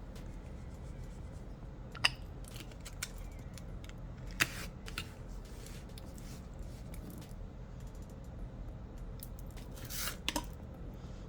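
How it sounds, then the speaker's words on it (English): Nail polish scraped lightly across a metal stamping plate for a layered stamping manicure: a few faint, brief scraping ticks spaced apart in a quiet room, with no speech. "you want to scrape very lightly"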